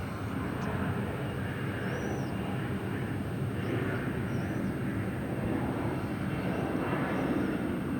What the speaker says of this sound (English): There's another plane taking off. Looks like an RJ